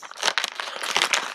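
Scissors cutting open plastic toy packaging for a Walking Dead horror figure, a quick burst of crinkling, snipping and tearing plastic, close and dense for a moment.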